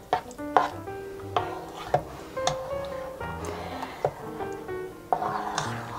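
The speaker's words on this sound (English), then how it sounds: "I'm stirring slowly because I'm wearing white." A spoon stirs squash soup in a pot with scattered clinks and knocks against the metal, irregular and moderately close, with some faint ringing tones between the strikes.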